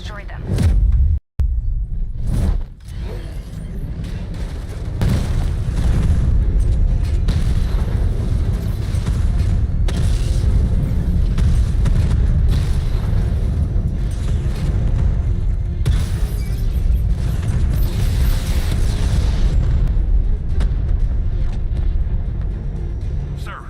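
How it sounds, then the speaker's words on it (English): Tank cannon fire and explosions in a Batman video game, a sharp blast early on followed by a sustained loud rumbling roar of battle and engine noise running throughout. "Your 60mm cannon will penetrate these heavily armored units, but it'll take a few direct hits to destroy them."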